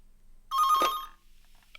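A telephone rings once loudly in a quiet room, a bright electronic warble that stops abruptly, with a second ring just starting at the very end.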